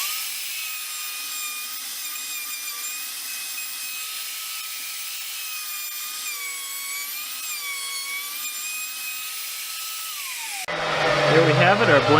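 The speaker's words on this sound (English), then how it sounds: "my first cut using a bottoming bit with a flat bottom" A wooden blank spins while a flat-bottomed bottoming bit cuts it round, giving a steady high whining, shrieking tone that holds for about ten seconds and then turns into a louder, rougher grinding.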